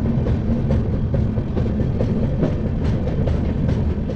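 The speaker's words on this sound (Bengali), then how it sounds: "12টা বেজে 20 মিনিটে আমাদের ট্রেন কিন্তু ছেড়েছে মালদা টাউন স্টেশন থেকে" Passenger train running steadily after departing Malda Town station, a continuous rumbling roar with rhythmic clickety-clack of wheels over rail joints, heard from inside a carriage.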